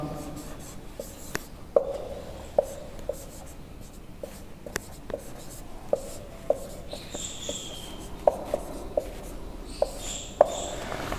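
A teacher writes on a classroom board, making scratchy strokes with sharp taps at irregular intervals over about eleven seconds. The marking is steady and close, with no talking.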